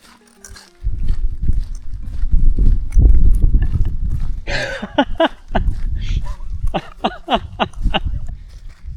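Cows moving beside a forest hiking trail on the Märjamaa–Kohila stretch of the RMK Penijõe–Kauksi trail, with close, heavy shuffling hoof steps and rustling, while people talk and laugh over them.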